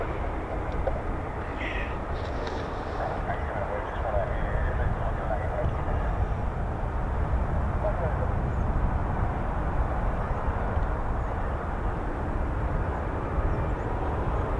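A steady, broad roar of jet engines from F-35B stealth fighters at RAF Marham, holding constant and moderately distant throughout, with a brief higher chirp early on.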